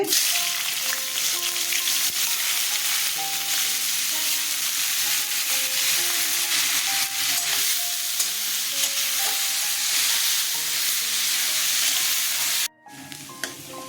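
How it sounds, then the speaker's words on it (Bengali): Onion frying in refined oil gives a steady, close sizzle and crackle for most of the span, broken by a brief drop near the end before the frying resumes, with no voices. "রিফাইন অয়েল দিয়ে দিচ্ছে পেঁয়াজটা ছেড়ে দিচ্ছে"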